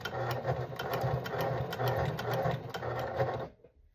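A sewing machine stitches steadily, back stitching a zipper into a thick Carhartt hunting coat, running close and even with a fast mechanical rhythm for about three and a half seconds before it stops.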